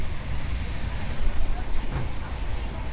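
Constant low rumble and rattle of a moving train heard from inside a carriage, with faint voices mixed into the steady noise.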